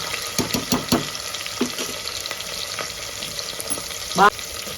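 Onions fry until reddish in a pan, crackling steadily as they are stirred, with repeated sharp scrapes and clicks of the utensil and a brief louder clatter near the end.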